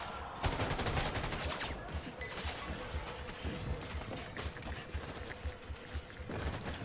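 Bursts of gunfire crackle throughout a combat sequence in the video game Death Stranding, dense and continuous with sharp cracks over a rumbling battle din, loud and without speech.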